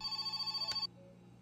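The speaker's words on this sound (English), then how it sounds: "I can hear the phone." A telephone rings inside the video game My Summer Car, a steady pulsing electronic ring with bright high tones that repeats rapidly and then cuts off abruptly, leaving a quiet low hum.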